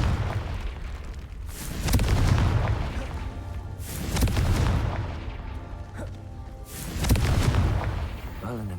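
Confringo fire spell blasts in the Hogwarts Legacy video game, several heavy booming explosions at roughly two-second intervals, each a loud burst fading into rumble, with game music and effects underneath.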